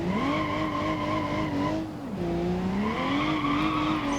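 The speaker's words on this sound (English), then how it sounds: "drift it along this road" A BeamNG.Drive ETK i-Series car drifting along a road, with a loud, sustained tire squeal that wavers in pitch and dips briefly midway before resuming, over engine noise.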